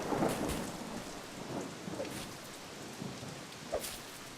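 Rain falls steadily with low thunder rumbling in a thunderstorm in the game Force of Nature, a constant wash of drops with a few soft distant booms and no voices.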